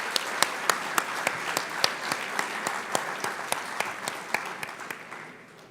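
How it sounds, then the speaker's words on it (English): An audience at an award dinner applauds in a steady, dense patter of many hands, with a few sharper individual claps popping out rhythmically above the wash before it fades away. "let's give another round of applause for Carrie and for you."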